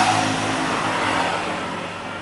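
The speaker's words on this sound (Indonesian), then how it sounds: "Nah, ini motornya motor Scoopy." A Honda Scoopy scooter engine with a throttle sensor fault revs in a workshop, a close, steady mid-pitched whine that slowly fades as the revs drop.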